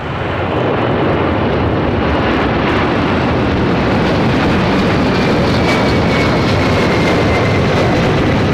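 A FedEx MD-11 jet rolls down the runway at LAX, its engines a loud, continuous roar that stays steady and close throughout.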